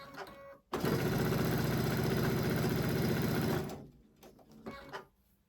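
A sewing machine runs in one steady, loud burst of about three seconds while stitching quilt block pieces for a pinwheel block, with brief softer machine noise before and after.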